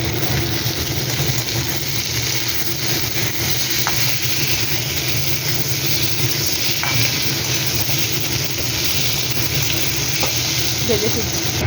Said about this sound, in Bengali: আলুটাও ভেজে নেব।